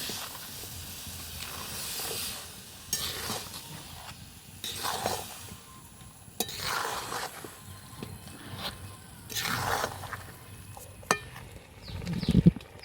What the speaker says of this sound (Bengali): গুড়টা নারকেলের সঙ্গে খুব ভালোভাবে মিশিয়ে নিচ্ছি